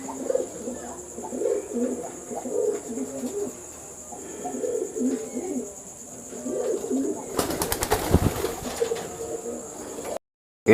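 Racing pigeons in an Indonesian loft coo repeatedly in soft, rolling phrases close by, several birds overlapping, with a burst of rustling flutter near the end.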